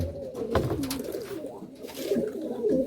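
Low, soft cooing from many male Malwai and Madrasi pigeons kept in a loft in Budge Budge, South 24 Parganas, rolling in continuous overlapping waves at close range, with faint rustling.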